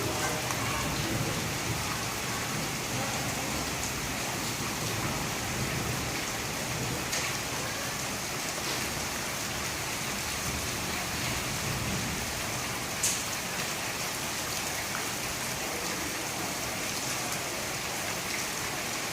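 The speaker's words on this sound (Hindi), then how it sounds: "बहुत तेज़ बारिश लगी हुई है।" Heavy rain pours steadily in Rawalpindi, a dense, even hiss of drops hitting surfaces with no letup, loud and close. A single faint crack stands out near the end.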